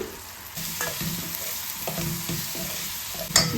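Onion and tomato sautéing with chili powder in a pan for a curd tempering dish: a steady, close sizzle with scattered stirring scrapes and clinks, and a sharper clatter near the end, with no talking.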